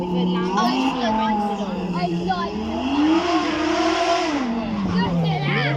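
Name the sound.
supercar with 5.2 litre V10 engine revving on a demonstration run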